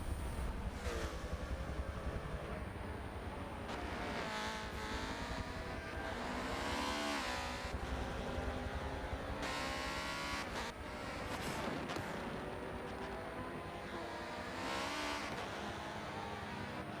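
Race cars passing on a racing video game circuit at Daytona, engines whining up and down in pitch as cars sweep past one after another, fairly faint under continuous track noise.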